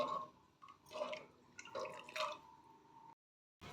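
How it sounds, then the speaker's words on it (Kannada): Quiet, irregular bubbling and popping of water just beginning to boil in a pot, soft gurgles spaced out, then a brief silence. "ಇವಾಗ ನೀರು ಕುದಿಯೋಕ್ಕೆ ಶುರುವಾಗಿದೆ"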